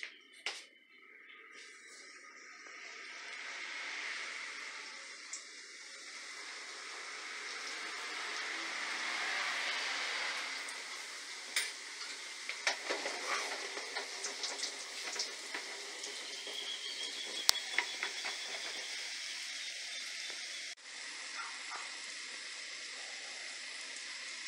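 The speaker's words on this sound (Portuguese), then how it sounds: "Agora já estão crescidos, vamos então fritar e passar no açúcar." Rosquinhas (doughnuts) frying in hot oil, a steady hiss and crackle with scattered sharper pops building through the middle, fairly close and moderately loud, with no talking.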